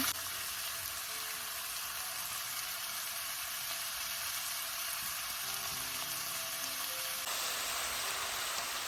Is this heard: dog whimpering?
no